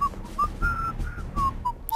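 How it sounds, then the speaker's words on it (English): Someone whistles a short tune of sustained high notes with brief pauses, set against a low rumbling background, in the video game Robin Hood: The Legend of Sherwood. "Stop whistling."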